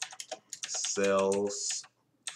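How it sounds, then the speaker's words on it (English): Quick clicks of typing on a computer keyboard, several bursts of keystrokes heard close up while a person talks over them. "we just want to start typing the name of our class"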